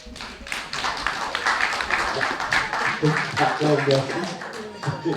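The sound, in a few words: church audience applauding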